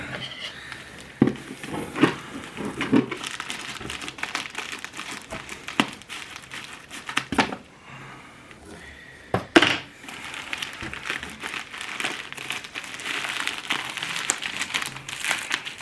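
Black plastic packaging around an extreme Trinidad Scorpion hot sauce crinkles and crackles as it is unwrapped. Sharp snaps and rustles come in bursts, close to the microphone and with no speech.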